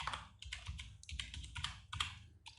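Keys on a computer keyboard are pressed in a quick irregular run of close, quiet clicks and taps while working in node-based editing software, with no voices.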